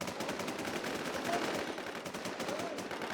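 Rapid video-game gunfire in a dense, continuous automatic burst from Infestation: The New Z, loud and sustained for several seconds with a few faint voices mixed in.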